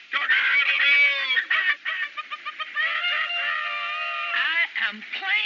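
A person mimics a rooster crowing with a long, warbling, strained crow that breaks into choppy clucking syllables and then stretches into another wavering call, close and loud, with no real bird present.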